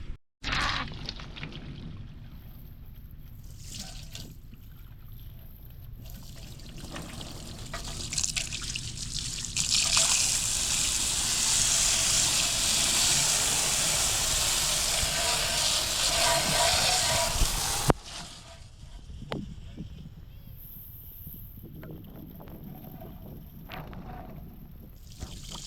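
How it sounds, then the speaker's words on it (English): Hissing spray of cool water rinsing wheel cleaner off a truck wheel, building into a steady loud gush for about ten seconds, with dribbling and trickling before and after. "you spray it off in 1 or 2 minutes with cool water"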